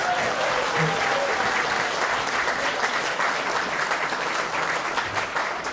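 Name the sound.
applause for volunteers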